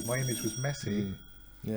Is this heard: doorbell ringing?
yes